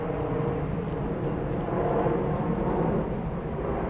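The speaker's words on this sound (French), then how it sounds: "Attends que l'avion passe." An airplane passes overhead as a continuous, broad, distant rumble that holds at a steady moderate level, swelling slightly midway, with no talk.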